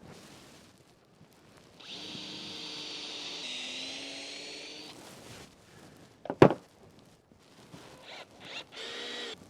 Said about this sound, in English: I'm going to use a 5/32 drill bit to drill my pilot holes for the deck screws